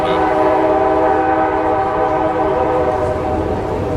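A train sounds a loud, continuous horn while passing close to an outdoor Field of Flags ceremony in Marietta, Georgia, the steady blast holding for the whole stretch over a rumbling low undertone.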